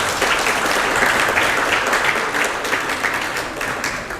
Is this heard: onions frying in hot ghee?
no